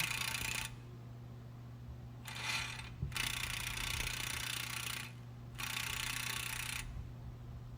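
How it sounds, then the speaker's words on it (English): An impact gun drives a 32 mm axle nut onto the driver-side axle of a 2016-2020 Chevy Malibu 1.5L Turbo, with several separate hammering bursts over a low background hum. It sounds fairly faint and carries no speech. "threaded some right there, 32 millimeter, and I gun it down"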